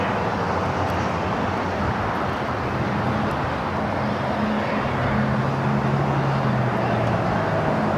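A China Southern Cargo Boeing 777 freighter, flight 2538 bound for Guangzhou, taxis at LAX, a steady, moderately loud jet-engine hum with faint tonal whine that swells slightly toward the end.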